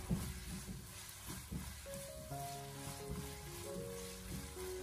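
Minced pork stir-fries in a little hot oil in a wok over low heat, a soft continuous crackling sizzle with light stirring, while gentle background music plays.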